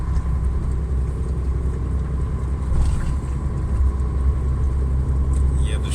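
A car driving along a road in a blizzard, its engine and tyre rumble a steady, low, continuous drone from start to finish.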